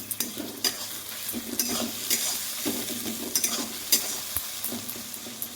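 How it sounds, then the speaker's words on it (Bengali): Onions frying in a pan with a steady sizzle, interrupted by repeated scrapes and stirs of a spatula, close and moderately loud with no voices. "পেঁয়াজটা আমি লাল করে ভেজে নেব।"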